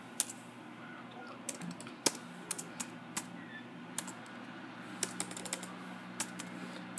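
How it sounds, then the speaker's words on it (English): Irregular keystrokes clatter on a computer keyboard, sharp clicks scattered over a steady low hum, close and moderately quiet. "Sorry, my typing's a bit off since I'm typing with one hand."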